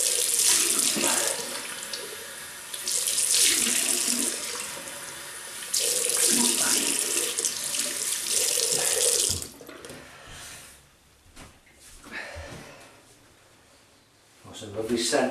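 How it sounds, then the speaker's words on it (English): Tap water runs loudly into a sink while a Merkur 45 Bakelite double-edge razor is rinsed off, a steady broadband rush that drops and splutters near the end before flowing again. "So I just rinse off."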